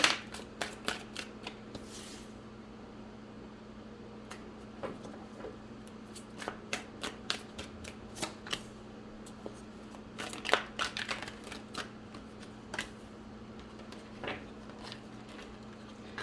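Tarot cards shuffled by hand in repeated soft riffles and taps, close but fairly quiet over a low steady hum, with no talking.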